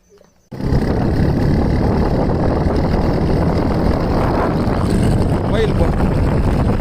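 A motorbike engine runs on a road trip from Bommidi in Dharmapuri district toward Yercaud. After a brief quiet start it becomes a loud, steady, close rumble that lasts throughout.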